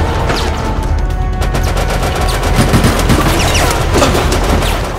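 Rapid gunfire from the video game Resident Evil: Operation Raccoon City during online play, with dense, loud, overlapping automatic bursts and single shots crackling continuously, over game background noise and no talk.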